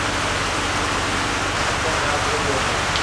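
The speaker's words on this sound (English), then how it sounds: "Unfortunately, it's raining, but" Steady rain falls outdoors during a wet recovery of a 1972 AMC Javelin SST police car, a constant broadband hiss with a low rumble underneath, filling the whole moment without breaks.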